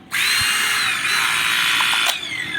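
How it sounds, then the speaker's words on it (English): Battery-operated hydraulic-style rescue jaws whir at a steady high-pitched motor drone, loud and close, starting abruptly and running continuously for a couple of seconds with a faint click near the end. "Over here we have the battery operated jaws and tools."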